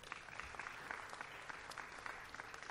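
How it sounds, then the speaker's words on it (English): At a dedication ceremony for a campus sciences building, a distant audience claps for city officials, a soft steady patter of many hands lasting a few seconds. "Give them a round of applause."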